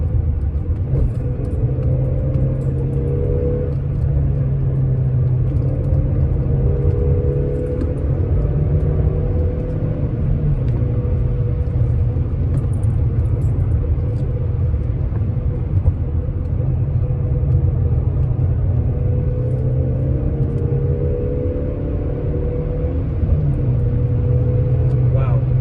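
A Peugeot 406 four-cylinder engine driven fast, heard as a steady, loud in-cabin drone and rumble with slowly shifting engine pitch throughout.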